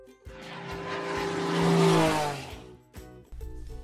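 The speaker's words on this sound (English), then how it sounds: "So we send up planes as often as twice a week to make sure we know exactly what's going on with our pipelines." A patrol plane checking gas pipelines passes overhead, its engine drone swelling and then fading as it flies by, followed by short bursts of music.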